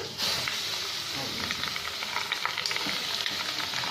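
Cluster beans fry in a hot pan of tempering, a close, continuous sizzle with crackling pops, while a voice talks over it.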